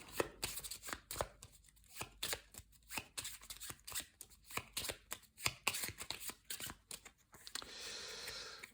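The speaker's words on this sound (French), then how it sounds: "on va reprendre la carte et on va remélanger" Cards for the board game Tiny Epic Defenders are shuffled close up in quick, crisp riffling bursts with short pauses between them, followed by a softer sliding rustle at the end.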